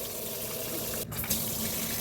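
Running water rinsing raw pork skin in a kitchen sink before cooking chicharon, a steady close splashing stream with a brief break near the middle, no voices.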